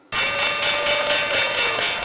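The closing bell at the New York Stock Exchange rings as one loud, sustained, steady peal that starts abruptly and carries on without a break.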